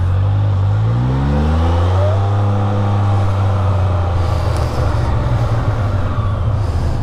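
A Can-Am Spyder fitted with an Akrapovič exhaust riding along, its engine note dropping as it decelerates, then loud rushing wind and road roar filling the rest, no clear talk.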